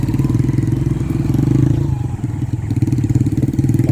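A motorcycle engine runs close by with a loud, rough, pulsing low rumble and clattering beat, dipping briefly midway before picking back up.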